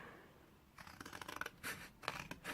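Scissors snip through paper for a handmade Halloween mini album, a short run of crisp close cuts followed by several distinct separate snips, with no one speaking.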